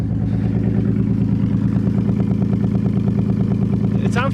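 A Nissan 300ZX engine idles with no mufflers fitted, giving a loud, steady, close-up rumble with a slight tick and rattle and an even, consistent rhythm throughout.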